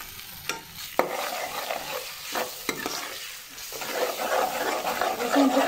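Spices with tomato, garlic and ginger paste frying in a pan, a moderate crackling sizzle with a few sharp utensil knocks and stirs, growing louder toward the end.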